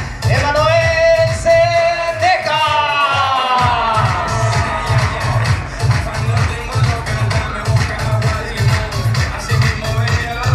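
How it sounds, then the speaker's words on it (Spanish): Cheering and shouting crowd greeting a chambelán at a quinceañera presentation, lively whoops and voices rising over a driving, repetitive bass-heavy dance beat. "Aplausos y gritos para"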